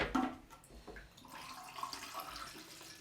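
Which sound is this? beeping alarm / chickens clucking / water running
water running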